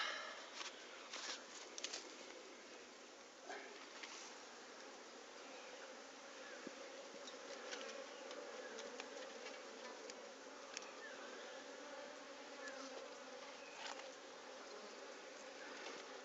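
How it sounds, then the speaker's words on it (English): A honey bee swarm settling into a beehive box makes a steady, faint, dense buzzing hum that continues throughout with no talking. "So when a swarm flies into a box like that, they've got to immediately start laying to build up the swarm."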